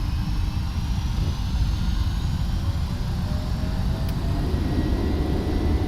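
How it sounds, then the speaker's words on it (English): Boeing 767-300 engines at takeoff power in the X-Plane 11 flight simulator, a steady, loud, continuous roar with heavy low rumble and a faint high whine throughout. "Takeoff power is set."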